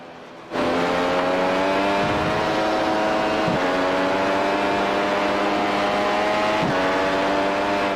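Onboard engine of an iRacing Grand Prix race car at Zandvoort in a video game, starting abruptly and revving hard and steady, with a few long gear changes dipping the tone before it climbs again.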